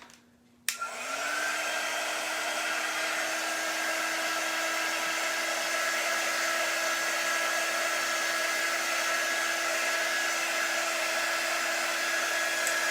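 A hair dryer drying white chalk paint on autumn cut-outs switches on abruptly and then runs as a steady, loud, continuous whine and rush of air with no talking.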